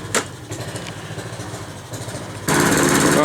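A lawn mower engine runs steadily on a petrol fuel additive, a close continuous drone that rises abruptly to a louder, harsher roar near the end as the throttle opens.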